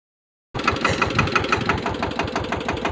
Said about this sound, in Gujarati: આજે ટ્રેક્ટર છે વગર ડ્રાઈવરે ચાલુ થઈ ગયું છે મિત્રો